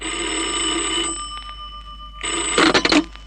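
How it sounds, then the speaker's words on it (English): A telephone bell rings in two bursts separated by a short pause, the second burst louder, as a sound effect in an old crime radio drama, with no voices over it. "At 11, the phone rang."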